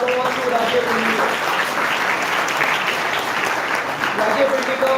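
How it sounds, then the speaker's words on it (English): A hall claps loudly and steadily for a student topper at a higher secondary school commerce faculty felicitation, with voices heard over the applause. "Give a big round of applause to Rajesh Pendikar."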